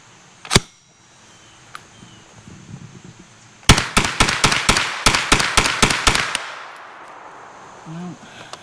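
Steyr AUG 9mm submachine gun resting on its magazine fires a rapid string of about a dozen sharp, loud shots that stop abruptly. A single shot sounds earlier, and a faint voice murmurs afterward.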